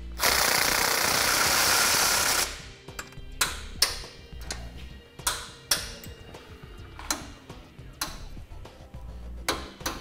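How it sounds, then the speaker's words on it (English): A torque wrench tightens sway bar bolts during a Roadmaster crossbar-style base plate installation, giving a string of sharp metallic clicks and ratchet ticks at uneven intervals after a burst of broadband noise. "we can go ahead and tighten down and torque the bolts down as specified in the instructions"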